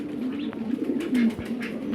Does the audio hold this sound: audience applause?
no